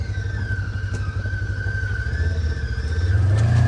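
A Ranger utility vehicle with a new engine drives along a muddy trail, giving a steady, close mechanical drone that swells louder toward the end as it revs.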